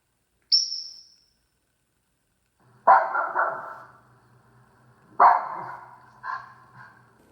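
Two short bark-like bursts with a voiced, slightly unnatural timbre, a parrot mimicking a dog, preceded by a brief high chirp; close and fairly loud.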